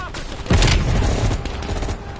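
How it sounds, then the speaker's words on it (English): Gunfire in Call of Duty Cold War during a firefight: a sudden loud burst of rapid shots breaks out and keeps rattling on as dense, continuous shooting. "At the fork, you followed the road right toward the sound of gunfire."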